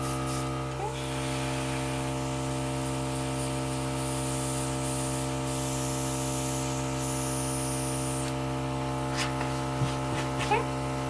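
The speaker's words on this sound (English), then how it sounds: "Spraying a tissue." An airbrush sprays makeup onto a tissue, a steady close hiss of air running unbroken for several seconds over a constant electrical hum from the compressor.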